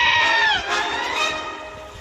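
A loud, strained sheep bleat, drawn out and wavering, close by and alone, trailing off after about two seconds.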